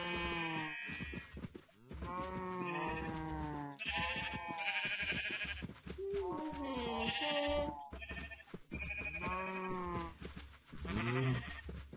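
Repeated wavering sheep bleats from the video game Minecraft, loud and close, overlapping one another almost continuously with brief gaps, with no talking.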